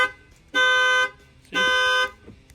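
Two loud, drawn-out electronic chirps from a GMC Acadia factory alarm counting down before arming, each about half a second long and evenly spaced, sound alone against faint background noise.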